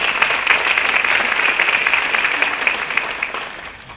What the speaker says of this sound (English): So give yourselves another round of applause as a community